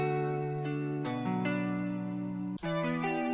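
A slightly distorted electric guitar played through an FL Studio effects preset with chorus rings out sustained, shimmering chords for a sad beat, shifting to a new chord every second or so, with no voices.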